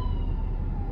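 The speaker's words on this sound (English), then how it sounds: "Here goes the ambulance." An ambulance siren wails steadily in the distance over a loud, rumbling background of downtown traffic noise in Kissimmee, Florida.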